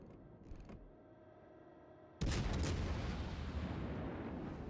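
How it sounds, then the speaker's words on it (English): Naval artillery fires in World of Warships Legends: after quiet creaking ambience, a sudden loud boom of shells launching bursts out and rumbles away in a long decaying roar. "We've got shells being lobbed over."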